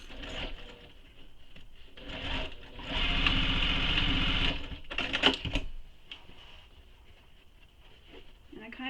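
A sewing machine stitches a bag, running in a steady burst of a second or two amid quieter handling noises and a few sharp clicks, with a voice speaking at moments.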